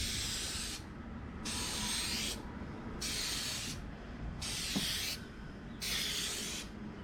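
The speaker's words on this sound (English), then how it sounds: "We're gonna do nice steady sprays all the way across." Headlight sealant sprayed from an aerosol can in five steady passes, each a loud broad hiss of about a second separated by short pauses, close up and without talk.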